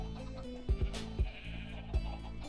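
Sheep in Minecraft bleating several times in quick succession, short nasal bleats over a low steady game background, fairly quiet and alone.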